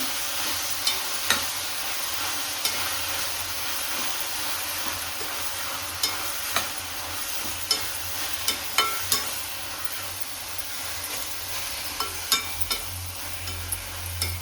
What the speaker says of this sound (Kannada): ಈಗ ಪಾಲಕ್ಕೆಲ್ಲ ಎಣ್ಣೆಯಲ್ಲಿ ಸ್ವಲ್ಪ ಚೆನ್ನಾಗಿ ಫ್ರೈ ಆಗಬೇಕು.